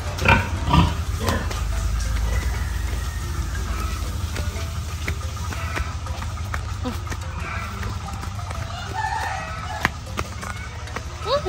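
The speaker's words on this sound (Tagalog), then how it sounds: "Cute ng mga baboy." Pigs grunt and snuffle close by on a farm in La Union, with roosters and other fowl calling in the background and people talking now and then.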